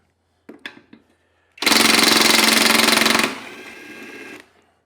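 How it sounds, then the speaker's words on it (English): An impact wrench with a socket rattles off the flywheel nut on a Briggs and Stratton engine from a Snapper mower: a few light knocks, then one loud, fast hammering burst about a second and a half long that fades into a winding-down whir. "we already have an impact out with the right size socket on it"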